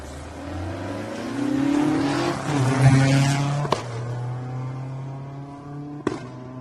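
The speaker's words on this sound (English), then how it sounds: "Listen to it popping under the shift." A rally car on a stage of the Adelaide Hills Rally revs hard through the gears, with sharp pops and crackles on each upshift, loud and close.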